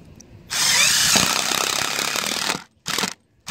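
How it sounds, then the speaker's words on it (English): A power driver runs self-tapping lath screws into an RV roof, whirring loudly and steadily for about two seconds, then two shorter bursts follow after a pause. The sound is near and heard alone. "They spread out the pressure a little bit, and they're self-tappers, so I'm just gonna be putting these in."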